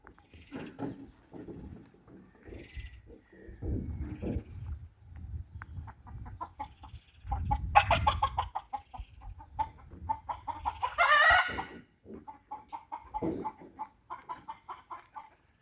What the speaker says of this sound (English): Our local chickens are busily eating insects in the soil.